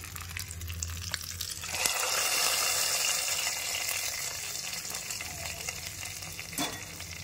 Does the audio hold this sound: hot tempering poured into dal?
yes